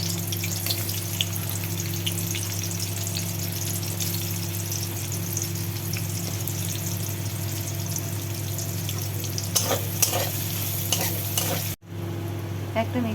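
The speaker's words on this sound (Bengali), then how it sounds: "তেল গরম হয়ে গেছে, পেঁয়াজগুলো ভেজে নাও।" Onions fry in hot oil with a continuous dense sizzle over a steady low hum, a few scraping stirs near the end, then a brief dropout before the frying resumes.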